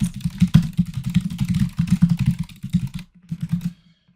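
Fast, steady clatter of a computer keyboard being typed on up close, with loud, dense keystrokes that pause briefly near the end, resume for a short burst and then stop.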